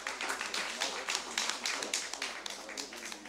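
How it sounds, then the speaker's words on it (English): An audience at the African Development Bank 2025 Civil Society Organizations Forum claps in a dense, steady round of applause, close and continuous for a few seconds. "we need to give them a proper round of applause"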